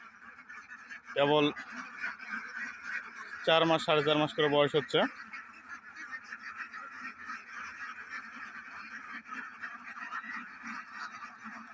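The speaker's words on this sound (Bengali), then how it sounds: "এই বিলে এই হাঁস চড়ায়" Free-range ducks on a farm of about 350 birds by a wetland, with several bursts of loud, raspy quacking from a flock nearby, a person talking over the steady outdoor background.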